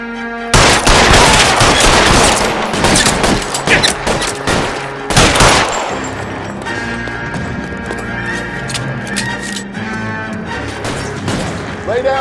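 Gunfire in the video game L.A. Noire, with loud bursts of rapid shots clustered in the first half, mixed with horse hooves and whinnies, then fading into music and voices.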